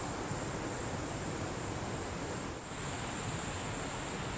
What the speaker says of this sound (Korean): 여기 가만히 앉아서 바람 맞으면서 물소리 들으면서